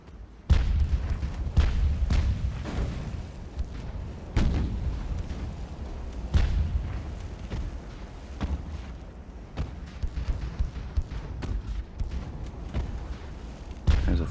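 Naval guns firing and shells striking in the warship game Ultimate Admiral: Dreadnoughts: deep, rumbling booms repeat at irregular intervals over a low, continuous roar, with some loud, close blasts and some distant ones.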